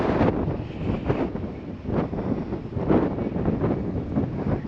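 Gusty wind buffets and rumbles in uneven surges at an RC model warbird flying field, swelling and easing every second or so with no other sounds.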